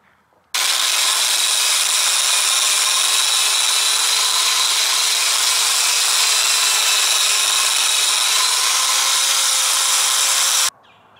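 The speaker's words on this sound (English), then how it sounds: "Now I'll reverse the drill and it'll make the texture go a little deeper and the swirls will go the other way." A power drill fitted with a wire brush runs in reverse against a wooden board, roughing up the surface texture in one loud, steady, high-pitched whir with a scratchy bristle hiss. It starts abruptly, runs about ten seconds and stops, with no voices.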